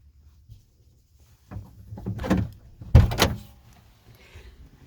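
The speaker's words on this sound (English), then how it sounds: "Can open the door." The door of a 1977 Corvette C3 is opened in two close, clunky mechanical bursts, a latch pop followed by a louder thump and creak, with quiet before and after.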